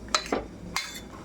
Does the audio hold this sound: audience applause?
no